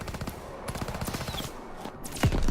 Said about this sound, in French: une mitrailleuse qui est placée, il tient l'entrée.